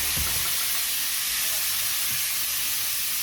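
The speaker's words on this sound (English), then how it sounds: "And you want it to let it sear so that you get that chemical reaction where the meat browns." Ground beef searing in a pot for a hearty beef soup, a steady close hiss and sizzle with a couple of soft low knocks from the pot.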